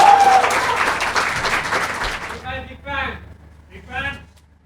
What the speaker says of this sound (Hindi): तालियां उठाइए, हम बुलाते हैं रमनीक भाई।